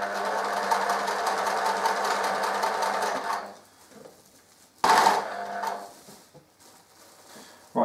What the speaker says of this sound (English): don't forget to backstitch